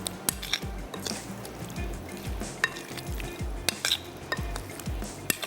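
Fish pieces are mixed with spices in a bowl, giving quick rhythmic stirring strokes and light clinks of a utensil against the dish, close and fairly quiet with no talking.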